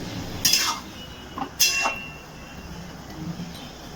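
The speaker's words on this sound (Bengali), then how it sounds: "এবার একটা ঢাকনা দিয়ে ঢেকে দিচ্ছি।" A metal lid set onto a cooking pot of potatoes simmering in a little water, giving two bright clinks about a second apart, close and fairly loud, with soft clatter between.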